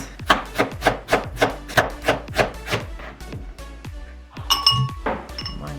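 Shallots are chopped with a kitchen knife on a board, giving about ten steady, evenly spaced knocks that are close and distinct, followed by a few looser taps and scraping clinks near the end.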